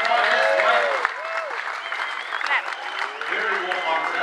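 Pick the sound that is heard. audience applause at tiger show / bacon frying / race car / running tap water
audience applause at tiger show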